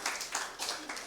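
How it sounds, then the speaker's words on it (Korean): A youth service congregation claps in continuous applause, a dense, steady patter of many hands at moderate distance, rising and falling slightly in loudness. "박수."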